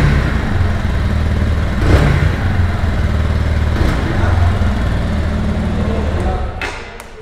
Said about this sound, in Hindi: अब कर लेते हैं बाइक को स्टार्ट और सुनते हैं एग्जॉस्ट नोट।